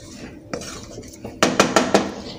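A metal spoon scrapes and knocks against a pot while butter is stirred into butter chicken, with a few soft scrapes followed by four sharp, loud clanks close by.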